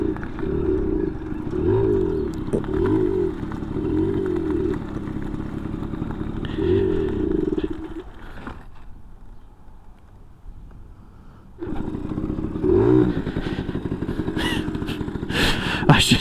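A 1980 Yamaha Towny scooter's small engine runs close by with a chugging, rattling putter for about eight seconds, fades to a quieter pause, then resumes with clattering mechanical noise.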